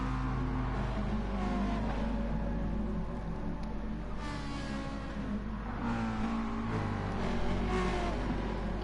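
A pack of race cars, among them a Ferrari, roar around the Spa circuit in a racing game. Engines drone and rev steadily throughout, layered together with no voices.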